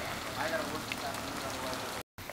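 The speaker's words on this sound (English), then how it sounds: "It's raining. Water on the ice." Steady rain falls on a frozen bay where portable ice-fishing huts stand, a continuous close patter of drops on wet ice for about two seconds before a brief cut.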